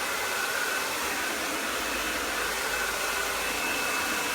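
A handheld hair dryer blows steadily on hair during a blow-dry session, a continuous close, loud whooshing airflow with no break and no talking.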